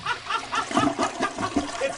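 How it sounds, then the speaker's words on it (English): Water splashes and trickles in uneven bursts, fairly close and moderately loud, with a faint voice-like murmur mixed in. "Water dripping. Is the sound of a budding new romance."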